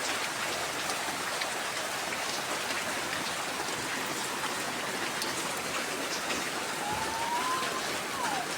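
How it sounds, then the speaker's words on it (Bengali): A downpour of heavy rain gives a constant, enveloping hiss that stays level throughout, with a brief faint tonal sound near the end. "বৃষ্টি হচ্ছে আবার আকাশ কালো হয়ে গেছে"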